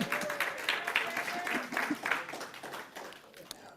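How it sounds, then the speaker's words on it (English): Church congregation applauding, clapping and whooping in a hall, a steady wash of claps with scattered cheers and voices mixed in, fairly distant and moderate in level, fading slightly toward the end. "all the whooping and hollering and applauding"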